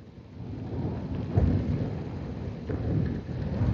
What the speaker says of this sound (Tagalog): Dami yung bagsak ng ulan,